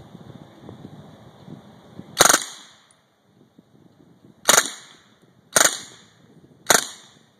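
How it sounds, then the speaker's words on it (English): Fully automatic MAC-10 machine pistol fitted with a silencer, fired in four sharp suppressed reports spaced one to two seconds apart, close and loud over a quiet outdoor background. "getting ready to shoot the fully automatic MAC-10 machine pistol with a silencer"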